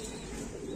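A Rampuri pigeon gives a brief, soft, low coo, faint and heard close by.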